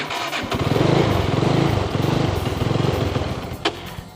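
A motorcycle engine cranks and catches again, running in a rough, pulsing chug for a few seconds before sputtering, close and fairly loud with no talk over it.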